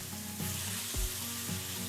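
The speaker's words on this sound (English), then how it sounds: "You wanna hear it sizzling, because if you don't, it's not ready." Steady sizzling of pork belly frying in a hot pan, a continuous crackling hiss with a few louder pops.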